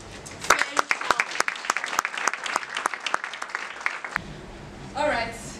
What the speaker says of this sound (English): Ladies and gentlemen, please give a big round of applause to Ms.